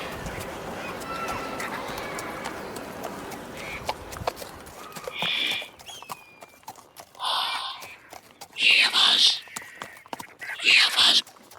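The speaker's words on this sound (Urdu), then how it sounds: "گھوڑے کے آنے کی آواز ہے۔" Horse hooves approach as a radio drama sound effect, a clip-clop rhythm fading in beneath a man's spoken lines, followed by a few louder, separate thuds and rustles.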